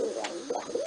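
Pigeons coo inside a loft, giving a few soft, low, warbling calls close by against a quiet indoor background.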